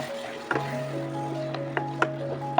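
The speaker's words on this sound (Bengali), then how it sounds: "এবার একটু লইট্টা মাছটা ভালো করে ভেজে নেব এই পেঁয়াজ টমেটোর সাথে" Loitta fish, Bombay duck, sizzles as it fries in a pan with onion and tomato, with a soft steady frying hiss broken by a few sharp clinks of stirring.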